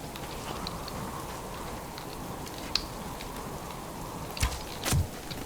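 Steady rain falls in the survival video game Subsistence, a soft, even hiss throughout, with a few brief louder patters and thumps near the end.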